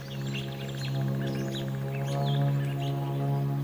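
A mockingbird calling outdoors, a run of quick repeated chirps and varied short notes over a steady low hum of background noise, moderately distant.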